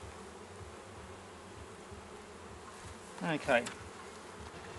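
Honey bees buzzing in an opened beehive during a summer hive inspection, a dense steady hum with a nearer, louder bee droning past briefly; a person speaks a single short word.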